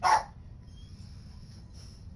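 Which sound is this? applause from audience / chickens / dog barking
dog barking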